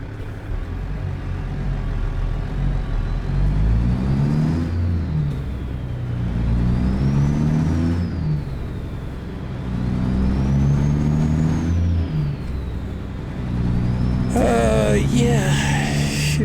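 A Mack truck engine in American Truck Simulator hums and drones steadily at close range, with slow swells in pitch as it accelerates and shifts through gears, then a brief burst of higher-pitched sound near the end.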